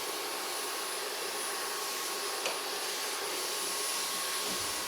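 A Dreame H12 wet-dry vacuum cleaner runs with a steady, loud, airy whine throughout, a continuous close hum without pauses or voices.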